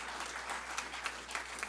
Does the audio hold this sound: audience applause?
yes